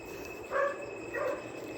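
A dog in a kitchen gives two short, moderate barks about half a second apart, with faint room tone in between and no talking.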